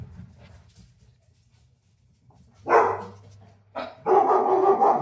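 A small dog yaps and barks in short bursts after a quiet stretch, loud and near, with a faint low hum in the background.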